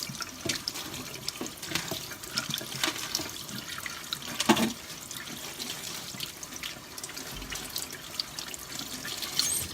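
Tap water runs steadily into a kitchen sink while cucumber and limes are rinsed under it, with splashing and shifting flow throughout at moderate volume.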